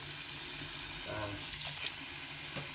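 A sink faucet runs in a thin, steady stream, faint and even, with a few light clinks and splashes partway through.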